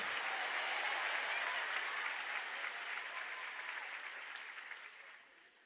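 A church congregation applauds, a wide, even wash of many hands clapping at a distance that slowly thins and dies away over several seconds.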